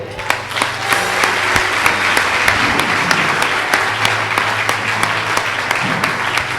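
A church congregation breaks into loud, continuous applause with dense, sharp claps from many hands. It holds steady for the whole stretch without talk.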